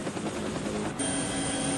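A military helicopter lifts off, its rotor and turbine roar filling the scene steadily and loudly, the pitch shifting slightly midway with a sustained engine tone, no voices.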